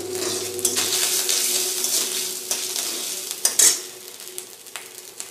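Ginger and radhuni seeds sizzle in oil left over from frying fish, a close, steady crackle broken by occasional scrapes and clinks of a stirring spoon against the pan.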